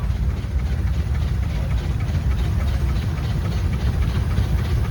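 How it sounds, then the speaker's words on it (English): A home-built steam engine with a case boiler and a Sewell engine, driving a sawmill carriage at a steam and gas engine society show, gives a steady, loud, low rumble that runs unbroken with no voices. "This is a home-built engine. It's built with a case boiler and a Sewell engine for driving a sawmill carriage."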